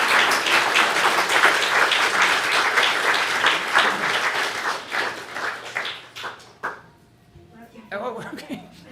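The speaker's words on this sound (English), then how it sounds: "One more round of applause for our Dharma School teachers," A crowd at a Dharma family service applauds its Dharma School teachers, a dense burst of clapping that thins into scattered claps and then stops, with voices talking over it toward the end.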